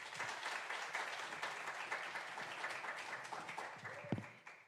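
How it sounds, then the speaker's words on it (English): Teachers at a code-a-thon event give themselves a round of applause, a sustained crowd clapping heard from a moderate distance, fairly soft and even throughout, with a brief thump near the end. "Can you give yourselves a big round of applause?"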